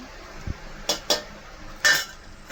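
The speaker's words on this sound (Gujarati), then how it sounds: "હવે આપણે એમાં કાજુ પનીર નાખી દઈશું" Cashews and paneer tipped into hot oil and gravy in a pan, heard as four brief utensil clinks and knocks against the pan over a faint background hiss.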